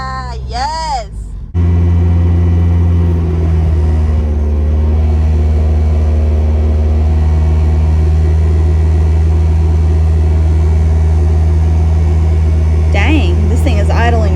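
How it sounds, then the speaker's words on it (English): A newly installed engine in a boosted Honda Del Sol idles high, a loud, steady low drone that holds close and unbroken after a brief voice at the start, with another short voice near the end. "this thing is idling really high."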